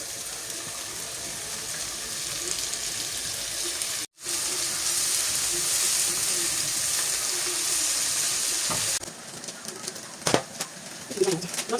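Onion and tomatoes fry in a pan for instant noodles, a steady broadband sizzle that cuts briefly, then turns patchier with stirring clatter and people talking.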